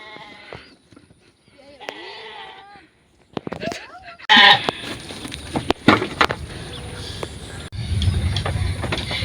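Goat bleating in an animated explainer, with several wavering bleats early on, followed by louder clattering, rattling and bustle that fill the rest of the clip.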